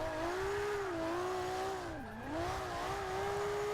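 A car drifting through a corner in second gear in Forza 5, engine droning steadily with a wavering pitch that dips briefly mid-slide, accompanied by a continuous tire hiss.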